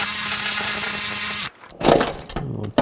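A ratchet or power tool runs loud and close while bolts on a Chevrolet Equinox water pump are tightened, cutting off abruptly, then a few metallic clicks and clanks follow.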